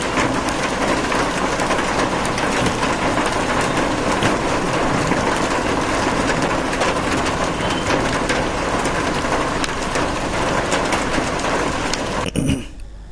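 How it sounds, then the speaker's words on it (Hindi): Heavy rain with hail falling in Delhi NCR, a loud, steady, dense roar of pelting drops and hard impacts that continues without a break and cuts off abruptly near the end. "एक तरफ झमाझम बारिश और ओले"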